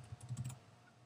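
A few quick, faint keystrokes on a computer keyboard, tapped close by in a short burst and then stopping.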